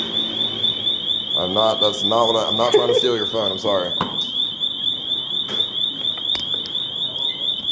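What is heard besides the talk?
alarm going off after unplugging charging station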